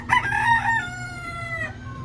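A rooster crows once, loud and close, a long strained call that trails off, with faint background noise.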